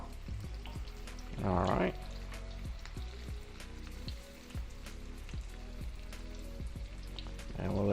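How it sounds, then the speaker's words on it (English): Open-ended traditional lumpia egg rolls frying in hot oil, a steady close crackling sizzle with a couple of louder bubbling bursts, a voice speaking briefly over it. "You'll see a little bit of sizzling coming from out of each end of your wrapper."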